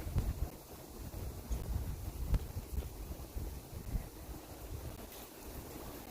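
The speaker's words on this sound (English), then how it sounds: "It's a surprisingly windy day." Gusty wind rumbles and buffets the microphone continuously, low and blustery, with no one speaking.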